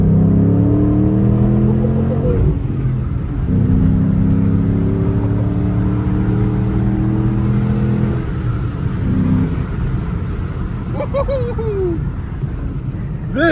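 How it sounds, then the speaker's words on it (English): A 2007 Ford Mustang GT with a V8 revs and accelerates hard through rising gears, its deep engine note loud and close from inside the cabin, with a brief lull before pulling again. "The V8 sound you hear coming from it when you're soaring through is just"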